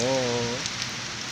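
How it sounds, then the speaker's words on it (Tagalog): Steady rain hisses on surfaces, briefly overlapped at the start by a short voice before the downpour continues alone. "maliligo ako ng ulan first time kong maligo ng ulan"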